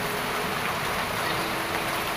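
Steady rain falls outdoors, a dense even hiss of drops with no pauses and no voices.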